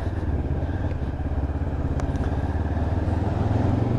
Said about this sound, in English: you can just hear the grunt of that engine